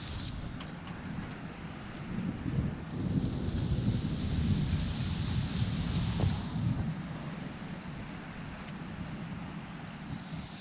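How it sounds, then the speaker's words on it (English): A crazy summer thunderstorm in Washington DC, with steady heavy rain and low rolling thunder that swells through the middle and then eases, heard without any talking. "The storm was very crazy."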